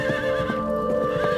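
A New Forest pony, a moorland breed, neighs with a loud, wavering whinny, accompanied by a few hoof clip-clops and steady background noise.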